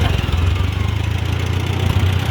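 A 1947 Farmall A or 1953 Super C tractor's four-cylinder engine idles steadily at close range, a continuous low throbbing rumble with even pulses and no talk over it.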